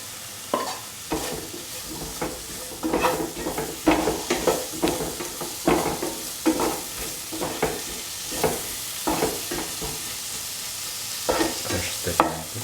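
Tomatoes being stirred and crushed in a sizzling pan with Kashmiri chilli powder and salt for a taro tomato stew, with steady frying hiss and repeated close scraping, pressing strokes throughout.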